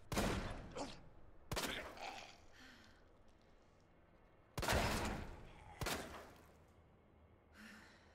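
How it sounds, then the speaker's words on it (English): Several sharp gunshots in the video game Resident Evil 2, spaced irregularly with dull reverberant tails in a quiet space, the loudest around the middle. "Oh, I can shoot him through the grate."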